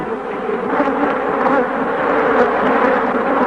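A dense swarm of killer bees buzzes loudly and steadily all around, a thick continuous drone close by with no voices.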